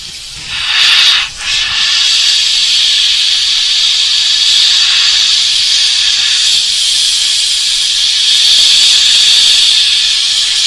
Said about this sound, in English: I got to get right down in there with the airbrush